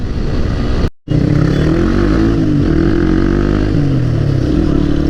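A stunt motorcycle engine drones loudly and steadily as it rides on a road, cutting out briefly before resuming with shifting revs and a constant buzzing tone.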